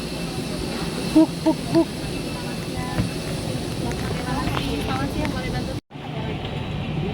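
Airliner engine running outside before boarding a Batik Air / Lion Group flight, a steady broad roar filling the whole clip under close talk and a few short taps, briefly cutting out near the end.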